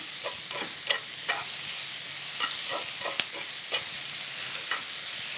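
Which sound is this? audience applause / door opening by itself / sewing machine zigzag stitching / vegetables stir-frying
vegetables stir-frying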